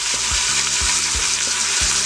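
Pork chops sear in oil inside a pressure cooker, a loud, close, continuous sizzle with soft regular thumps recurring underneath.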